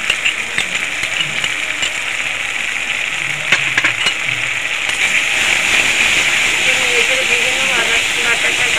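Ground ginger with green and red chili paste sizzles in a pan of fried tomato, a constant bright hiss that holds steady throughout, with a voice talking over it.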